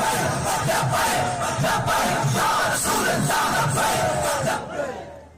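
A crowd at a religious gathering chants slogans in loud, rhythmic unison, repeated shouted phrases pulsing at an even beat for about five seconds before trailing off.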